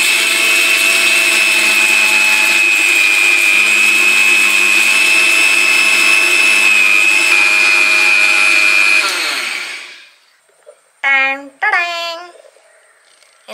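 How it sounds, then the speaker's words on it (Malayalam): Electric mixer grinding a batch of spices into homemade Maggi-style noodle masala, a loud steady whirring drone lasting about nine seconds before spinning down, followed by a couple of short rattling pulses. "അടക്കിയ എല്ലാം കൂടെ മിക്സ് ചെയ്ത് പൊടിച്ചെടുക്കുക"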